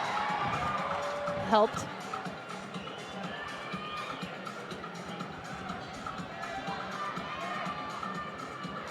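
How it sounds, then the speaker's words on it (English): A crowd cheers for a climber in the men's final of a bouldering national championship, a broad roar of voices with a sharp whistle early on, while a commentator talks over it. "The crowd giving him some love."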